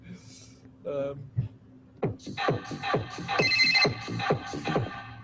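A bright electronic phone ringtone plays a melodic pattern of plucked, bell-like notes after a few brief isolated sounds, fairly close and clear.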